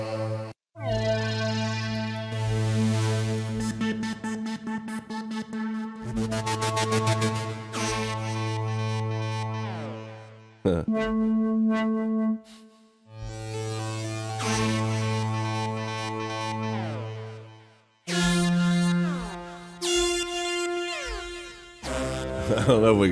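Cubase synth pad preset named African Hipness, playing sustained layered chords with bright shimmering upper tones, several held phrases separated by short gaps, loud and alone with no talking.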